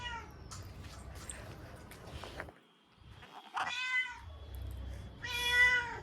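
A cat meows close by in a few drawn-out, wavering calls separated by short pauses, with a longer, louder meow at the end.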